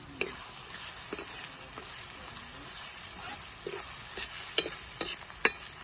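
A spoon stirs turmeric into prawns frying in a pan, with soft scraping strokes and a few sharp clinks over a steady background sizzle, close by.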